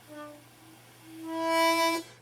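A harmonica two draw note played with the tongue dropped at the back of the mouth, a breathy low tone that swells and brightens into a fuller, louder sustained note before cutting off, close and alone.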